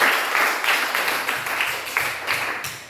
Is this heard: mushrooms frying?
no